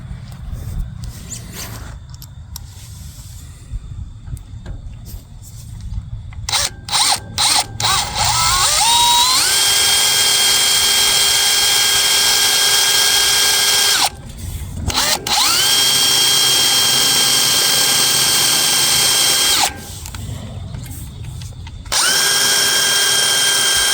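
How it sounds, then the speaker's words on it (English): A power drill drives a self-tapping screw into a trailer, its whine starting after some handling noises and running in three long, loud bursts separated by brief pauses. "now we'll put us a self-tapping screw in here"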